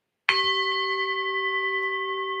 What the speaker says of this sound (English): Now that we've picked our numbers, let's ring the bell.